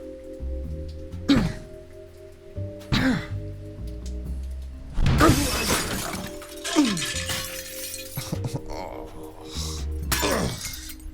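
A bathroom window's glass shatters in a noir cyberpunk audio drama: several sharp crashing bursts of breaking glass and tinkling shards, spread across the scene between quieter tonal music.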